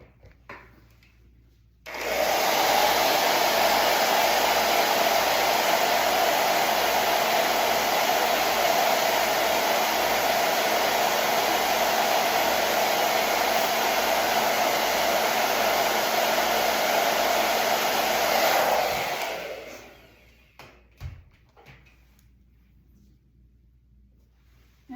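A hair dryer blows on fresh paint, switching on for a steady, loud whir lasting many seconds before cutting off into a quiet room.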